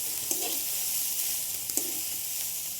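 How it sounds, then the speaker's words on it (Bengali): Momo filling sizzling in a pan as it gets stirred, a constant bright frying hiss with two brief scraping knocks from the spoon, close and steady, without speech. "এদিকে নাড়তে নাড়তে পুড়ে যাচ্ছে কথা বলতে বলতে।"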